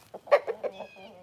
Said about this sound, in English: We have two young roosters right here with the black, copper ram tails